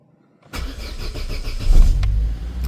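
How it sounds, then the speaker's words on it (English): A Corsa's ignition comes on after a brief silence, then the engine cranks and catches, settling into a close, steady rumble that swells slightly before running on. "Handbrake on, into neutral, and ignition on."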